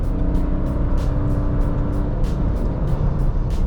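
Steady road and engine noise from a Citroën C3 Aircross on the move with rear drum brakes, a continuous low rumble with faint periodic ticks, no talking.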